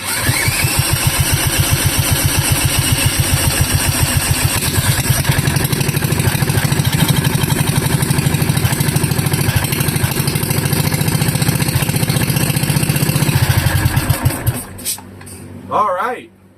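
A Wisconsin Model AB single-cylinder engine with an open flywheel, fuelled from its tank, starts up and runs with a loud, steady, rapid thumping beat close by for about fourteen seconds, then cuts out and winds down to quiet.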